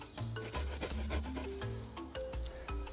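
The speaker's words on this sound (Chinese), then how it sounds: "我决定打磨一根木棍去挖点虫子吃" Close, rapid rasping strokes of abrasive scraping a wooden stick, repeating in an uneven back-and-forth rhythm without pause, on a desert island.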